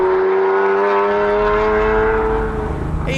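A manual Lamborghini Murcielago's engine roars loud and close, holding a strong droning tone that rises as it revs and then eases off toward the end.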